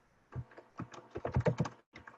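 Typing on a computer keyboard during an online support talk, a quick run of soft, close keystrokes with a brief pause, quiet and without speech.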